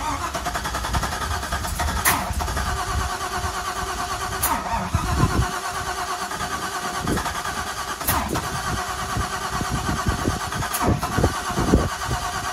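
A swapped-in LS V8 engine in a 1985 Camaro Z-28 with a five-speed manual cranks, fires and catches, then settles into a loud, steady rumble close by, with occasional sharp revs.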